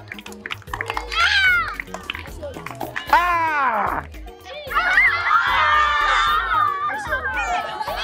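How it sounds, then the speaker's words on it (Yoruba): Children in a Yoruba class cheer and shout together in bursts, a lively close crowd of young voices rising and falling, with an adult speaking between the cheers. "Ó yẹ pàtẹ́wọ́ fún."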